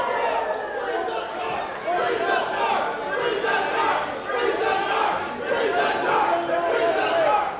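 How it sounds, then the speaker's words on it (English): Wrestling crowd in a steel cage match arena chanting in loud, rhythmic waves, a massed roar of voices rising and falling steadily with broad crowd noise filling the space. "And you hear the crowd chanting here"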